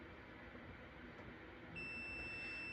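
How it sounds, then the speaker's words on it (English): A multimeter continuity buzzer sounds during car radio circuit testing, a steady high electronic tone starting partway through and holding to the end over a quiet hiss. "now I should have a tone buzzer"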